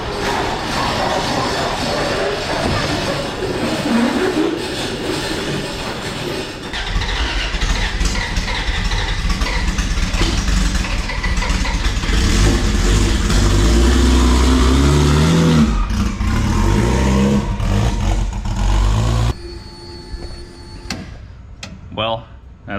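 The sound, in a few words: LS swapped Nissan 240 engine running and revving, first drive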